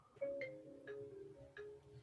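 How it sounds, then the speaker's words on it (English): A mobile phone ringtone chirps during a lecture on Physarum computations, a short melodic phrase of clear electronic tones that repeats, fairly faint against the room. "sorry, that's my phone."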